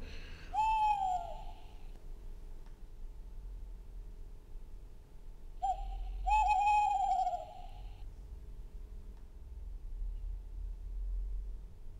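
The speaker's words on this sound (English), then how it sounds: "The tawny owl on the top right is the one that does the usual noise you think of as an owl noise." Two long quavering tawny owl hoots, a few seconds apart, clear against a quiet low rumble of distant traffic.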